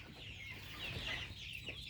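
Domestic hens cluck softly and continuously nearby, a low murmuring chorus of farmyard fowl.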